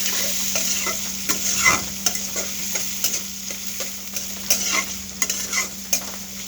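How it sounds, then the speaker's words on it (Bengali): Fish frying in oil with plenty of chopped onion for a bitter gourd fry, a continuous loud sizzle broken by regular rhythmic spatula strokes, no voices. "এবার আস্তে আস্তে সুন্দর করে আমি তেলের মধ্যে মাছটাকে ভেজে নিব।"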